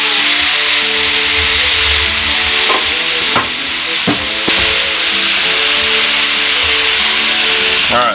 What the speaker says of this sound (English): Let's go in with our meat. We're just going to sear it.